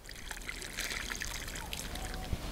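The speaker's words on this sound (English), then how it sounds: "And then I water the plant." Water is poured from close by onto a freshly planted Artemisia set in compost mixed with manure, giving a faint, steady trickle and splash with soft outdoor background noise throughout.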